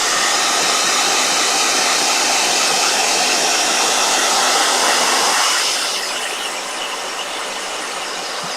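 A blow dryer runs loud and steady with a rushing hiss, then drops to a softer, lower setting partway through and keeps running.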